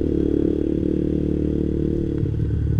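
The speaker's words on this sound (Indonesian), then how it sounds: "itu adalah engine brake dari mesin kalian" Motorcycle engine braking on a manual-clutch bike after the throttle is released, a steady low drone as the engine slows the machine, close and continuous with no talk.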